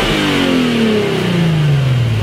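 A 2007 Infiniti G35X all-wheel-drive sedan's engine revs, its pitch sliding steadily downward as the revs fall, loud and close with no talking.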